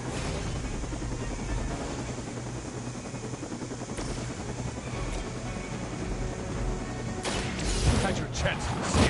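Helicopter in the video game Marvel's Midnight Suns, a steady low rotor and engine drone preparing to take off, with a sharper clattering burst near the end, moderately loud.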